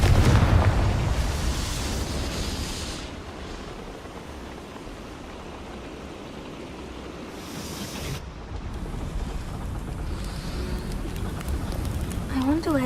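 Confringo fire spell blasting in Hogwarts Legacy, a loud, booming explosion right at the start that fades into a long rumbling roar, with a second burst of noise later on.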